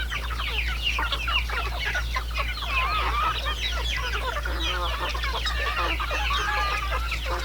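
Basilan native chickens on a poultry farm cluck and chatter continuously, many birds overlapping at moderate distance over a steady low hum.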